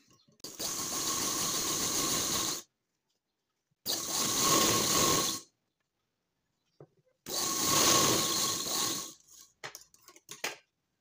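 A sewing machine stitches a blouse in three steady runs of about two seconds each, separated by short pauses, followed by a few light clicks and taps; the whirring is close and fairly loud.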